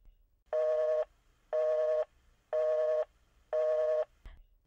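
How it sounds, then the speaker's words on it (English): A telephone busy signal plays as four evenly spaced beeps, each about half a second long with equal pauses between, clear and steady against near silence, ending with a brief click. "You'll hear a busy signal,"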